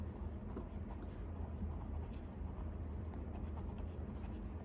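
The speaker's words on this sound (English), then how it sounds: "Okay, let's write it in." Fountain pen ink on paper makes a faint, soft scratching of nib on the page, low and close against a quiet background hiss.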